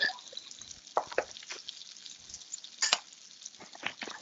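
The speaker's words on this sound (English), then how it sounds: "And I'm just going to mix this together and get that pork all nice and browned up." Spiced pork seasoned with cayenne browns in a frying pan, soft sizzling with a few wet crackles and spoon stirs, close but fairly quiet, no voices.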